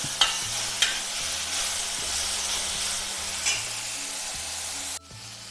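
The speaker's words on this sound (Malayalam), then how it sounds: "എന്നിട്ട് ഇനി ഇതെല്ലാം കൂടി ഒന്ന് നന്നായിട്ട് വഴറ്റിയെടുക്കണം." Bitter gourd sautéing with curry leaves in a pan, a loud continuous close sizzle and hiss with a few sharp clinks of stirring, cutting off abruptly near the end.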